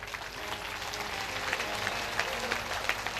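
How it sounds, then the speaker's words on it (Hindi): Sustained applause from an audience at a Hindu religious katha gathering, honoring saints from Ayodhya; dense, steady clapping throughout with no speech over it. "जोरदार ताली इनके लिए बजाएं।"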